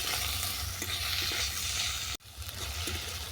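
Chopped green chilli and tomato stirred in a frying pan, a loud continuous hiss of frying with a brief break near the end, no voices.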